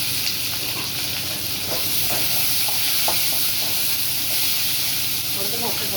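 Chopped onions fry in a pan for mint rice, giving a steady, moderate sizzling hiss with occasional stirring clicks and faint background voices.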